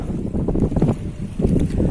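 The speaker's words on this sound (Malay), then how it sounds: "Angin kencang namanya. Bertiup dari arah sana nih, timur." Strong easterly wind buffets the microphone at a seaside fishing spot beside choppy water, a steady loud rumbling roar with gusty swells and no voices.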